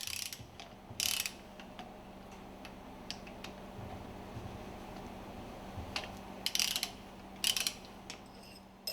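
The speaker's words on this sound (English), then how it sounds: "Loosen and remove the screws from the plunger and barrel assembly" Screws loosened on the plunger and barrel assembly of a fuel pump, quiet ratcheting ticks and clicks with a few louder metallic rattles, close up against a faint steady hum.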